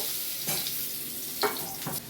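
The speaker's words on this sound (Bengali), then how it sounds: "আলুটাও একটু ভেজে তুলে নেব।" Potatoes fry in the oil left after the eggs for a Bengali chicken dak bungalow curry, a steady close sizzle broken by a few quick stirring scrapes.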